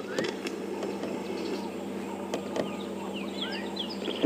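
Swallows flying past on an early-morning safari drive at Kunyuma in the African bush, giving thin, scattered chirps and twittering calls over a steady low rumble of vehicle and ambient noise.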